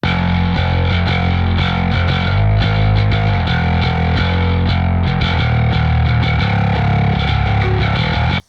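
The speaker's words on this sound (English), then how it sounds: "Let's take a listen to the isolated bass" A thick, distorted bass guitar plays alone, with heavy low end and gritty grind up top, sustained notes in a continuous riff at high volume before stopping abruptly at the end.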